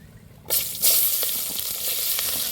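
Cinnamon and whole spices sizzling in hot oil as onion is added: a quiet lull breaks into a sudden loud, steady frying hiss with a few stirring scrapes, close up and continuing without speech.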